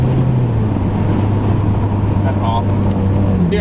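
A Procharged V6 Mustang with a catless, nearly straight-piped exhaust drones steadily at highway speed, a loud continuous low rumble filling the cabin throughout, with people talking over it.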